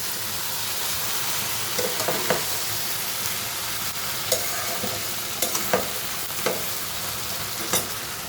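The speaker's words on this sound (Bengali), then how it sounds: "মশলাটা প্রায় কষানো হয়ে গেছে" Spice paste cooking down in a pan, a continuous sizzle under intermittent spoon scrapes and taps spaced every second or so, close and fairly quiet.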